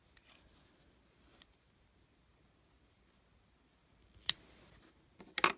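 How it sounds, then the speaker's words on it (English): Scissors snip through a strand of yarn during a knitting bind-off, giving a couple of soft, close cuts near the end after quiet handling. "just cut the remaining piece of yarn."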